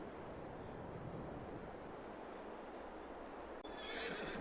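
A horse neighs in the video game Farming Simulator 22, a long whinny over a continuous background bed, followed by a sharp shift into brighter ambient sound near the end.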